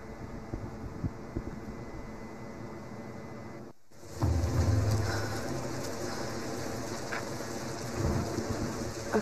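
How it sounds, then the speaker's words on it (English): Thunderstorm with steady rain in Tomb Raider, a hiss of rainfall broken by a brief dropout, then a deep rolling thunder rumble and continuing downpour with scattered crackles, no voices. "We're getting closer to the storm."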